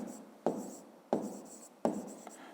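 Pen scratching numbers onto paper in three short bursts, each starting with a light tap, close and quiet, with no talking.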